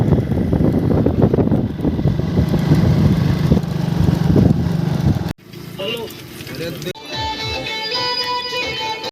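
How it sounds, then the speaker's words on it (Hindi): Motorcycle ride to a village market on a cold day, with steady engine drone and heavy wind rush dominating the first half, then a quieter roadside stretch with passing engine noise and scattered sounds. "तो हम लोग जा रहे हैं बाज़ार बाइक से।"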